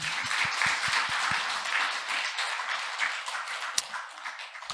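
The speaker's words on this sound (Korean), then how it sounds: "우리가 박수 한번 쳐줄까요?" A church congregation applauds its retired elders with steady, dense clapping that swells and then thins, plus a few sharper claps standing out near the end.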